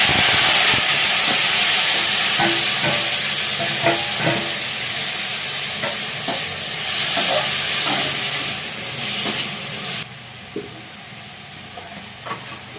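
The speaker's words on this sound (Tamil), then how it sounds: "கருவேப்பிலை வதங்கணும் வெங்காயம் தக்காளி போட்டுருங்க" Onion and tomato frying with curry leaves in a pan for a potato stir-fry, a steady loud sizzle with scattered crackles and stirring scrapes; near the end it drops to a quieter simmering hiss.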